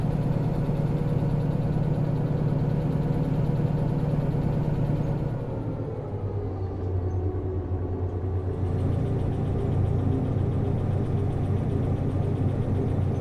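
Locomotive engine from the Derail Valley train simulator game running steadily, a continuous low rumbling drone with a brief dip in intensity midway before resuming, close and loud with no talk.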